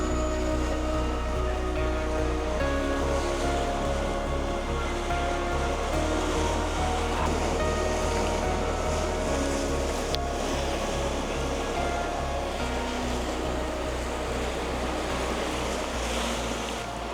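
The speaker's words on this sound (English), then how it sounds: "set myself up to enjoy the waves" Ocean waves wash against a rocky Connecticut shoreline near high tide, a continuous rushing surf with a low, steady rumble underneath, sustained and even for the whole stretch with no voices.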